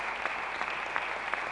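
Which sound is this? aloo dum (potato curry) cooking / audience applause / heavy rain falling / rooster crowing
audience applause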